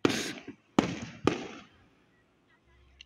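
Firework blasts go off outdoors: three sharp, loud bangs with crackling tails, the first two a fraction of a second apart and a third soon after, fading into quiet with a faint voice at the end.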